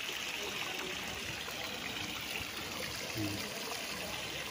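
Steady, quiet rush of natural spring water flowing into a resort swimming pool in Liliw, Laguna, a continuous trickling stream with a brief word spoken over it.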